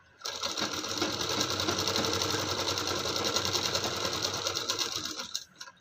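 A sewing machine runs continuously, close and steady with a fast, even mechanical rattle, as it stitches along the edge of a blouse neck strip, then slows and stops near the end.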